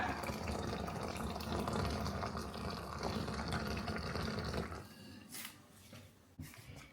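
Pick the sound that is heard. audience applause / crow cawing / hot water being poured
hot water being poured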